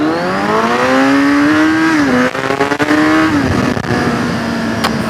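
A Kawasaki Z1000 motorcycle accelerates hard on a speed run, its loud, close engine note rising steadily, dropping briefly at gear shifts and climbing again, with no speech.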